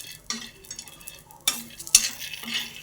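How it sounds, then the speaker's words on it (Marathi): Peanuts being dry-roasted and stirred on a flat griddle pan, giving a scattered run of short scraping, rattling stirs over a faint, low sizzle, close and with no voices. "शेंगदाणे पण छान असे भाजून घ्यायचे तव्यावरतीच"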